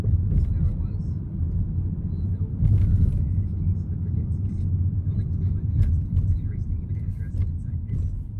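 Road traffic idling and creeping in a jam caused by an accident ahead on 7th Street, a steady low engine rumble with a few brief clicks and knocks, heard from inside a vehicle.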